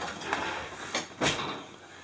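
A house side door near a backyard smoker opens or closes, giving a few short close thuds and rattles spaced out over about two seconds, with no talking.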